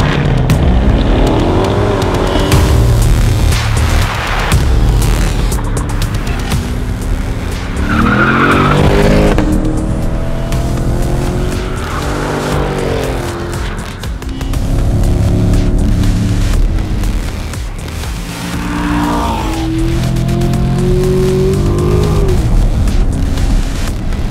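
A 2020 Chevrolet Corvette C8 Stingray, a Z51-spec car, laps a race track with a loud, sustained engine roar that rises and falls through gear changes, punctuated by tire squeal and skidding through corners, with no talking.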